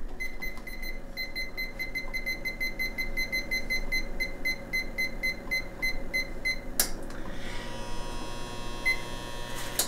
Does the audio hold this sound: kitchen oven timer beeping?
yes